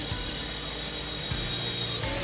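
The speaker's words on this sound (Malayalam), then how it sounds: "ഇതാ ഹെലികോപ്റ്റർ കറങ്ങുന്നു." A small RC toy helicopter's rotor spins up close in a steady, high-pitched electric whine with a continuous motor buzz that rises slightly near the end, heard alone.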